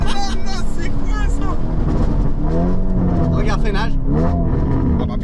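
Lamborghini Urus tuned to 800 hp revving hard, a loud continuous engine roar with rising and falling pitch sweeps as it accelerates, while someone talks over it.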